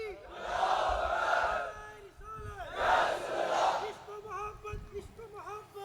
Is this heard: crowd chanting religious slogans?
yes